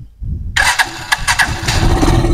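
A Rusi Chariot 175 motorcycle engine, shifted into neutral, sits silent for half a second, then cranks and catches abruptly. It settles into a loud, close idle with several short revving bursts.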